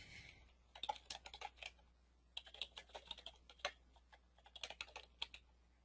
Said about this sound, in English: you just click the up button, type in a little description,